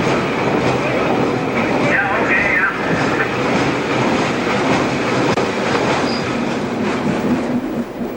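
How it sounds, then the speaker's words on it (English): A Newfoundland Railway train slows for Millertown Junction, wheels clicking over rail joints with a loud, close rumble and a brief squealing wheel tone, steady throughout. "the train slows for Millertown Junction"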